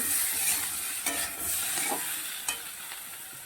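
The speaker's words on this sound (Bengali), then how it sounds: "একটু সামান্য নেড়ে চেড়ে নিতে হবে মশলা সঙ্গে" Spices for a hilsa fish curry are stirred in a hot pan under a steady bright sizzle, broken by a few soft scrapes of the spoon.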